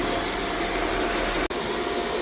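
A vacuum cleaner runs steadily, loud and close, sucking up leftover construction debris on tile flooring in a newly built retail store, with a single brief cutout near the middle before the drone resumes.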